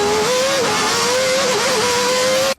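Ayrton Senna's McLaren MP4 Formula One car screams at high revs, a loud, steady engine tone with slight pitch wobbles as it runs, cutting off abruptly at the end.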